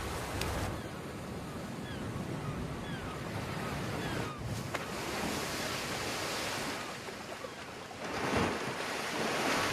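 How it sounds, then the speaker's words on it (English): Heavy ocean surf pounds a Hebrides shore after a serious storm, a steady roar of breaking waves with gusty wind buffeting throughout, swelling louder near the end. "The waves have pulped the seaweed and whisked it into foam."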